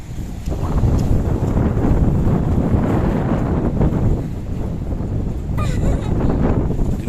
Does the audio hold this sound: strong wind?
yes